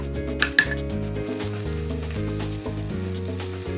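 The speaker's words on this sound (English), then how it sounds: "I'm essentially making a roux, the combination of the butter and the flour together." Butter and flour roux sizzles steadily in a pot while sifted flour is added, the frying hiss sitting under a prominent tonal musical bed, with a couple of sharper clinks near the start.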